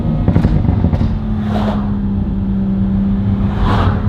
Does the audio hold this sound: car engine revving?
yes